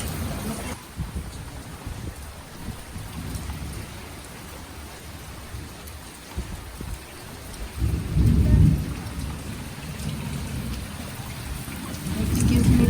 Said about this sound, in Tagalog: Saglit lang na ulan na malakas.